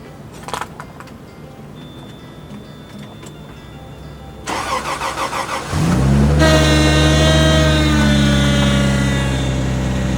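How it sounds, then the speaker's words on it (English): A few faint clicks, then a starter motor cranks rapidly before a Toyota Land Cruiser engine catches on a sub-zero cold start and roars into a loud, steady idle. "I've never started the Land Cruiser in sub-zero temperature."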